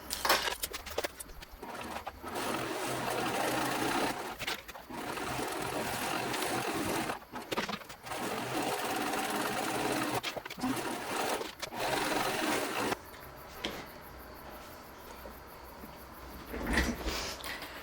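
A sewing machine runs in steady bursts while top stitching a conceal carry purse, near and fairly loud, with short pauses between runs and a quieter stretch toward the end.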